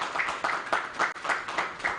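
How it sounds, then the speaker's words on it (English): Applause rises at a company's annual general meeting, a steady patter of clapping hands with rhythmic swells roughly every quarter second, fairly close and filling the whole moment. "Please round of applause to this my young man"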